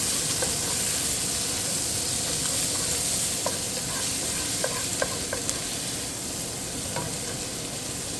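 Shallots sauté over medium heat in a pan, giving a loud, continuous sizzle with a few faint scrapes and taps from stirring.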